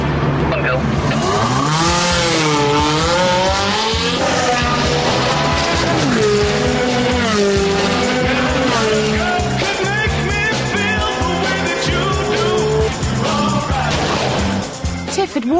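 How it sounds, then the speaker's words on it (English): A Ferrari 360 Challenge Stradale makes a launch control getaway on a test track, its engine roaring loud and close as it climbs through rising revs and gear changes across the whole run. "Hit launch control for a fast getaway and wait for the call."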